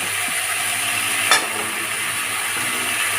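Chilli powder and spices stirred in a hot pan for a hilsa fish curry with pointed gourd, brinjal and potato, a steady close sizzle with soft scraping and one brief louder scrape partway through.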